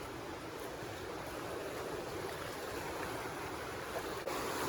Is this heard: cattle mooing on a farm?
no